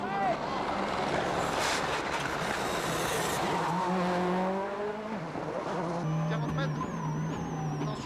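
A Peugeot 206 rally car driving a Rally Catalunya stage, its engine roaring steadily and close with rising and falling gear pitch, under someone talking over it throughout.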